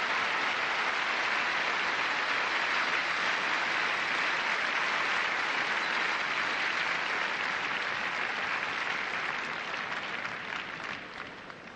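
A packed arena crowd at the gymnastics world championships in Stuttgart applauds in a dense, loud, continuous wash of clapping that holds steady, then starts to fade near the end.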